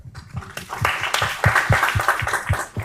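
Audience at a business talk in Porto Alegre breaking into applause, a short burst of clapping that swells quickly and holds over low crowd murmur.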